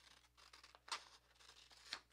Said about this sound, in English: a rough cut with scissors is fine.